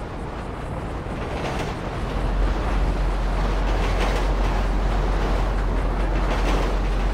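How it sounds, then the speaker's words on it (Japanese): A train in Grand Theft Auto rumbles past with a broad, steady roar that grows louder partway through and stays heavy and continuous, with a deep low hum beneath and no talking. "電車だ。"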